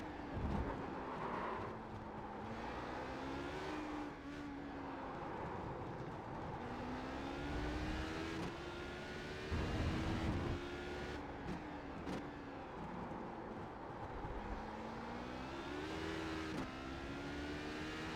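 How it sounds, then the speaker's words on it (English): An HPD race car engine in a racing video game drones and whines continuously at Interlagos, pitch rising and falling as the tyres spin up and the car accelerates through corners. "So you could hear the tyres really spin up there."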